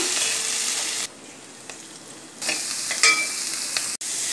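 Crushed ginger and garlic go into onions frying for a Kerala-style chicken roast, a bright hiss that drops briefly quieter, then rises again with a clink of the spoon, close up.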